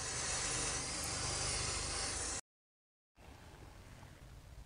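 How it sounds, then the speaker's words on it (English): Brake cleaner sprayed from an aerosol can onto front brake parts of a Porsche Macan S: a loud, steady hiss for over two seconds, a brief silence, then a quieter, rougher continuation. "So I use simple brake cleaner and a brush."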